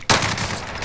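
PPSh submachine gun firing in Call of Duty Modern Warfare: a single sharp, loud report with a brief ringing tail, close and isolated.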